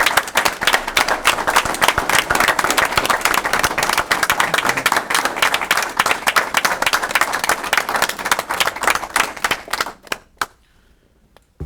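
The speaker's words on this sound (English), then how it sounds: "Let's have a round of applause." A board meeting audience gives a round of applause: dense, lively clapping for about ten seconds, thinning to a few last claps before falling quiet.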